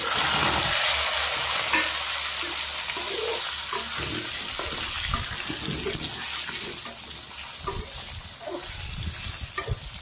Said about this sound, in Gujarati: પરવરને તેલના અંદર સાંતળવા દેવાના છે